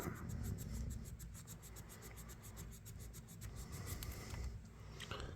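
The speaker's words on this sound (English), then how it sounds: "So I'm going to have to get in here and sand on it." Rust being sanded off a CAMCO 229 electrician's knife, a steady scratchy rasp with fast repeated strokes, close and continuous throughout, with no talking.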